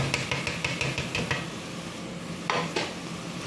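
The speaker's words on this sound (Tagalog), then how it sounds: "Halu-haluin lang din guys natin." A utensil stirs chicken pasta in white sauce in a pan, sizzling steadily with a quick run of rhythmic scraping clinks against the metal, then a pause and two more close taps.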